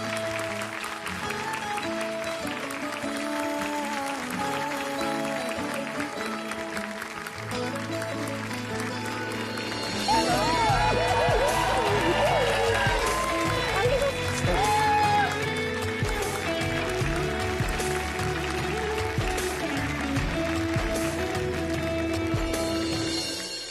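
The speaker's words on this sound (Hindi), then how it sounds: "तालियां बज जाए उनके लिए।" Studio audience applause on the Kaun Banega Crorepati quiz show, sustained clapping that grows louder and fuller halfway through as music swells beneath it.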